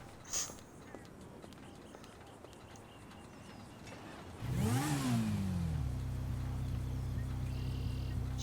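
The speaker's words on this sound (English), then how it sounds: "what is that motorcycle?" A motorcycle engine in GTA rises in a quick rev and settles into a steady idle hum, heard over a noisy background of game ambience.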